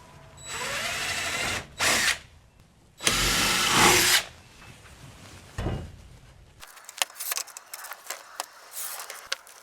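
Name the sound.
power drill drilling pilot hole into wooden stud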